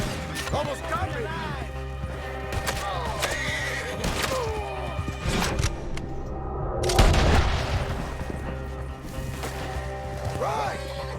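A horse in Red Dead Redemption 2 neighs and whinnies several times while galloping, amid booms and crashes of gameplay, with voices talking throughout.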